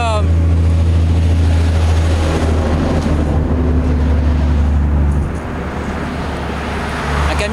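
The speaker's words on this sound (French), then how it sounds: "Mais regardez, il y a des voitures tout le temps. Puis des camions, ils font plein de bruit." Cars and trucks pass steadily on a road beside a river in Colorado, producing a continuous loud, low engine and tyre roar that eases slightly partway through before building again.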